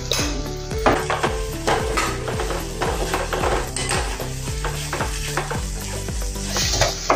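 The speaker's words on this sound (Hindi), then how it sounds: "अपने मसाले भी अच्छे से भून गए हैं इसमें तेल में" Red chili powder and turmeric frying in hot oil for a masoor and tuvar dal, with steady sizzling and the rhythmic scrape and clink of a spoon stirring the pan.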